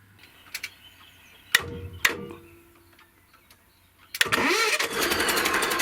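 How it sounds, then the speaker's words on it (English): A canal boat engine cranks in a couple of short false starts, sharp separate bursts with quiet gaps between, then catches and settles into a loud steady running rumble close by. "the engine has a couple of false starts"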